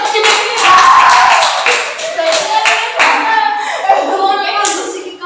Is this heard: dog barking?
no